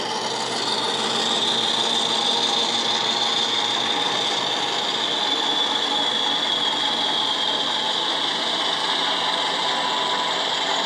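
Continuous mechanical hum and whine of a small Class 50 model locomotive motor running steadily as it comes to a stop, with a faint high-pitched tone over a rough rumbling texture.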